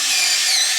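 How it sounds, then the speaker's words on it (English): A small power drill or power screwdriver drives a screw into a cheap wooden fence picket, a brief loud high-pitched whine held steady for under a second. "with a little power drill or power screwdriver like I'm using"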